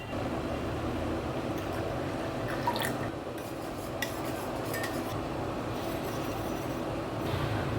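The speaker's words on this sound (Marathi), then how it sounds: "त्यामध्ये आपण पाणी टाकूया।" Water is poured into a salted yogurt mixture for boondi raita, a steady liquid rush with light dripping and splashing, close and continuous, with no voices.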